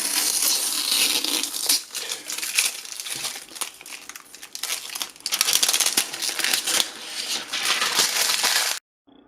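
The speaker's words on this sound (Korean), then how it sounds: "자, 비닐을 쓰도록 하겠습니다." A plastic sheet is handled and crinkled over a vertical Hyperspin arcade PC built in an iCade case. The crackling is dense and continuous for most of the stretch, then stops abruptly at the end.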